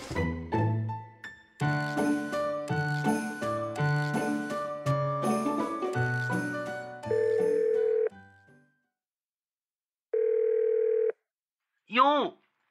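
A telephone line heard during a call in a Chinese audio drama. After a musical passage come two long, even dial-tone beeps separated by a pause, then a brief chirping ring.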